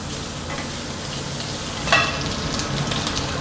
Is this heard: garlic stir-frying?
yes